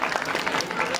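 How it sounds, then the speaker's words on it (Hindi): A school audience at a speech event claps continuously, a dense patter of many hands filling the room at close range, with a voice mixed in. "चलो अच्छा, अपने आप के लिए एक बार ताली बजा लें आप लोग।"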